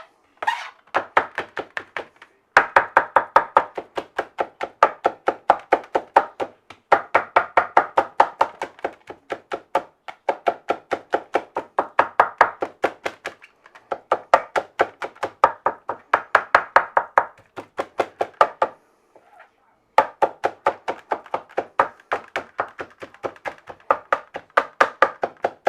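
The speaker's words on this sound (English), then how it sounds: "I'm going to go ahead and put a good chop on this. Want it pretty fine for taco meat." A knife chops barbecued beef finely for taco meat on a board, giving rapid, even knocks in long bursts with brief pauses between runs. The chopping is close and loud, with no voices.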